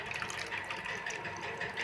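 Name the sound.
tamarind water poured into mutton bone and taro curry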